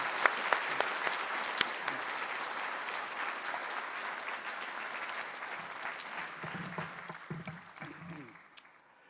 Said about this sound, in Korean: 우리 한번 박수로 이분들을 보내십시다